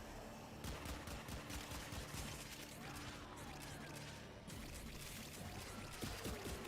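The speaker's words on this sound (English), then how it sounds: "Why am I shooting so slow though?" Gunfire in the shooter video game Warframe: a dense, continuous stream of rapid crackling shots and impacts, steady and unbroken throughout, fairly faint in the mix.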